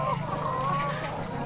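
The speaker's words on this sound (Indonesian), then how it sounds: "Jadi di sini total ayam itu ada 951 ekor." A dense chorus of about 950 laying hens clucking and murmuring fills an enclosed multi-tier coop, a steady crowded flock sound with no clear pauses.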